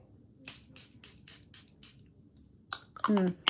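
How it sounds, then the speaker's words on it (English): Short, soft hissing bursts of makeup setting spray repeat in a steady rhythm, like quick pumps of a fine mist, followed by a brief rustle and clatter. "So I'm going to be using the Airbrush Flawless Setting Spray."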